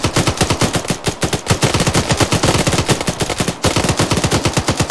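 Rapid automatic gunfire, loud and close, with sustained bursts of shots in a fast steady rhythm filling the whole stretch, briefly broken by a short pause before resuming.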